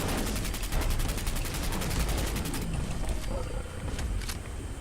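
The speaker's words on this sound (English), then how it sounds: "We'll just do a big old mag dump on him." Rapid automatic fire from a handmade rifle in the game Fallout 4, a loud fast rattling burst of evenly spaced shots emptying the magazine, then breaking off into scattered trailing noise.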